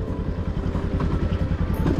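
A Royal Enfield Bullet motorcycle rides offroad on a dusty, rocky hill track, with a steady, close, low engine thump and chugging rhythm throughout and no talking.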